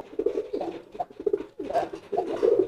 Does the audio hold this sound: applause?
no